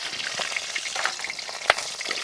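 Dried red chilies sizzle and crackle in hot oil for Kerala sambar, a steady close frying hiss with small pops and one sharper crackle, no talking.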